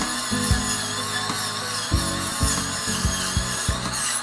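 A high-pitched power tool whines steadily while sanding a carved wooden shark, with repeated low bumps and scrapes as the tool presses into the wood, close and continuous.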